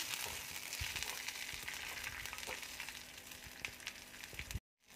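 Green chillies sizzling in hot oil with mustard seeds, a steady loud crackling fry with small pops, running continuously before cutting off abruptly near the end.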